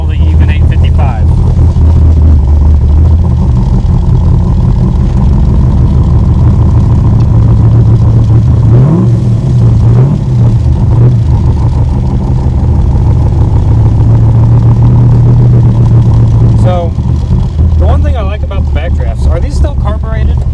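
A 1965 Backdraft Cobra's large carbureted engine runs at a steady, loud, deep idle, with people talking over it throughout.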